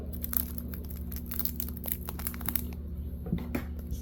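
Crinkling and tearing of a Donruss trading card pack wrapper, close up, with sharp irregular crackles over a low background hum.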